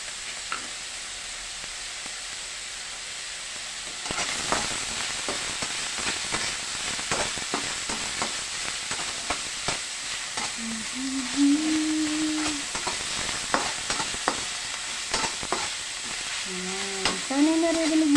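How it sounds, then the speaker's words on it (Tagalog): Ground meat browning in a pan over a raised flame, a continuous close sizzle with stirring scrapes, louder after the first few seconds, with brief faint whines near the end. "Pupula-pulahin lang po natin ng konti ang giniling para pumula."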